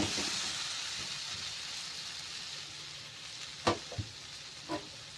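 Potato, pointed gourd and egg being sautéed with spices in oil, a quiet even sizzle with a few distinct stirring knocks toward the end, no speech.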